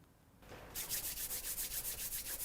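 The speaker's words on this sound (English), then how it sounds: "We start by rubbing the hands together vigorously to get them warm" Two hands rub together briskly in a quiet room as a qigong warm-up, a steady run of rapid, even swishing strokes that starts after a short silence and carries on close by.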